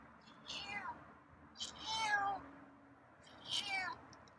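A feral cat meows three times outdoors, drawn-out calls spaced about a second apart. They sound fairly close but soft against a quiet background, with no talking.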